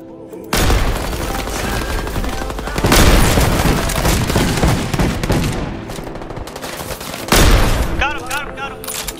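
Rapid automatic gunfire from the shooter video game Deadrop, loud bursts that start abruptly and keep going, with a second heavy volley near the end, close and dense.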